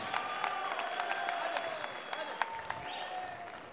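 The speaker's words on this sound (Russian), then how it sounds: "Ваши аплодисменты, Адам Мальцага." Audience applause at an ACB 37 mixed martial arts event as a fighter is introduced, steady crowd clapping with scattered sharp claps and a tonal hum from the arena sound system.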